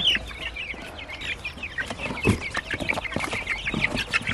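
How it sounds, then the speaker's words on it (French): Chickens on a backyard flock in spring cluck repeatedly in short, uneven bursts, some sharper calls standing out, all fairly close with no talking. "Ouh là, j'ai un poulet de chair là."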